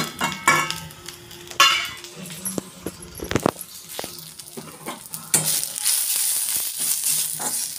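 Whole spices, including coriander seeds, black pepper, black cardamom, star anise, cumin and cloves, dry-roast in a pan with scraping stirs and rattling clinks against the metal, a crackle building toward the end, and a soft voice now and then.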